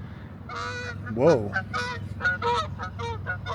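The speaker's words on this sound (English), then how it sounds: "Big old ducks flying somewhere." Large waterfowl honking as they fly overhead outdoors, a series of loud nasal honks close by, with a man briefly exclaiming in between.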